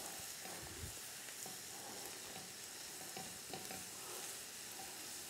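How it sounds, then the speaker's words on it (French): Onions and raisins cooking in a tagine, stirred with soft scraping and a faint, steady sizzle; quiet and close, with no talk. "je vais rajouter les raisins secs. Et je mélange le tout"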